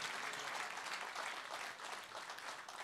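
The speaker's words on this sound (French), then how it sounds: "Applaudissons pour le Seigneur." A church congregation applauding together, a continuous wash of dense clapping heard from some distance and fairly faint, steady for the whole stretch.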